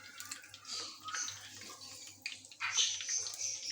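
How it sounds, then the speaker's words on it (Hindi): Bread chicken rolls fry in hot ghee over a medium flame, giving a steady sizzling hiss with uneven crackling bursts that grow louder toward the end. "अब इन्हें फ्राई कर लेते हैं।"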